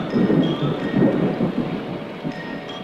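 Heavy rain pours down with deep rolling thunder, a continuous loud downpour with low rumbling bursts pulsing beneath it and no voices.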